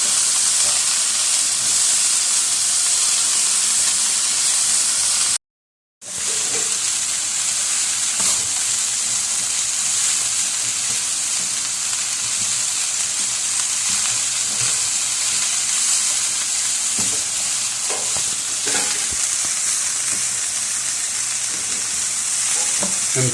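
Shredded cabbage and mixed vegetables for chicken spring roll filling cooking in a hot pan, a loud continuous sizzle and hiss with occasional stirring scrapes, briefly cut to silence near the start, no talking.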